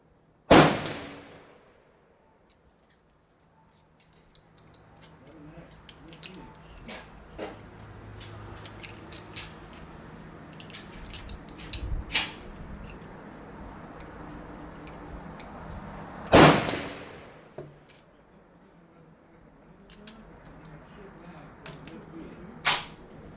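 An M1 Garand rifle test-fired indoors: a sharp loud shot at the start and another midway, with metallic clinks, ticks and rattles of the ejected clip and handling between, faint background voices.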